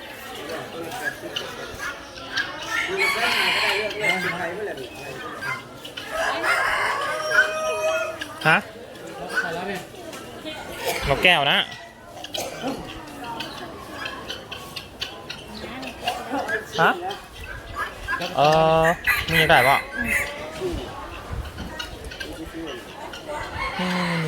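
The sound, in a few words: rooster crowing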